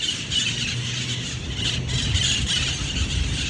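Flock of green parrots perched on power lines and poles in South Florida, squealing and squawking continuously in a dense, overlapping chorus at close range.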